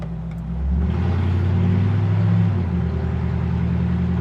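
A 1955 Ford F100 custom truck drives along with a steady, close engine drone that swells and rises in pitch after about half a second, then holds an even cruising hum.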